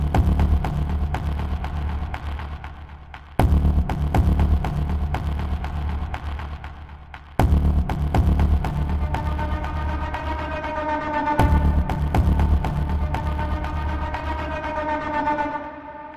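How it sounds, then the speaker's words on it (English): Gritty, heavily squashed audio run through a Manic Compressor plugin, with a loud, dense low-heavy tone. It plays in four repeated sections that each cut in abruptly and then fade slightly. "Now I'll add the Manic Compressor, and immediately you'll hear how much grit and power it adds to that"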